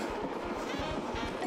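A train rolls along in the Paper Mario: Color Splash video game, with a steady rumbling hum and a regular clickety-clack beat of wheels over rail joints throughout, no voices on top.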